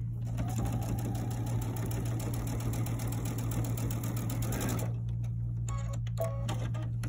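Steady whirring hum of a sewing machine stitching quilt blocks together, running continuously and close for about five seconds before stopping, leaving a few faint clicks and handling sounds.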